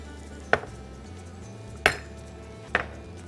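A spoon clinks against a cooking pot as tomatoes are stirred, three sharp metallic taps spaced apart over a quiet background, close and moderately soft.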